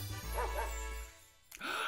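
A puppy Pokémon in Pokémon Scarlet and Violet gives a short bark near the end, after a stretch of low humming game music and faint voice-like sound.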